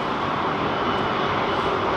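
A jet aircraft departing London Heathrow produces a continuous, loud, broadband engine roar that holds steady throughout, with no voices present.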